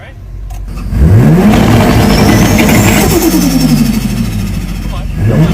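Lamborghini Aventador with a naturally aspirated engine revving hard through its exhaust, loud and close: rising pitch sweeps as the throttle opens, sustained high revs, then a falling note and another blip at the end.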